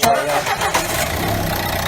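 A car engine cranks and catches at the start, then settles into a steady idle over the remaining second or so, close by and fairly loud.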